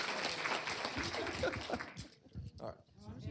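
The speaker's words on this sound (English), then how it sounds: "Let's give everybody a big round of applause, including our own commissioner." Audience applause at a county board of commissioners meeting, a broad burst of clapping that fades after a couple of seconds, with voices talking over and after it.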